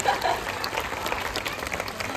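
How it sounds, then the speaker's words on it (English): Applause from a small audience at a live seal presentation, steady and fairly close, with a faint voice briefly cutting in near the start. "Let's give her a round of applause."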